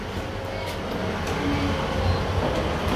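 A train moves through Doncaster station with a steady, moderately distant rolling rumble and faint rail noise that holds throughout the short stretch.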